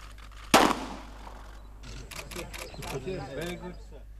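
A single live round fired from a gun at an official event, one sharp loud crack with a short decaying tail, followed by people talking nearby.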